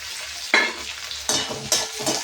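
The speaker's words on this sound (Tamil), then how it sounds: "நல்லா வெங்காயம் வதங்கிச்சு" Onions sautéing in a pan for pepper garlic kuzhambu, a bright hissing sizzle broken by three loud stirring bursts, close and without talk.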